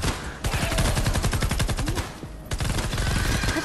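A breacher gun in Fortnite Save the World fires in fast automatic bursts, a loud close rattle of rapid evenly spaced shots, a brief pause, then another sustained volley.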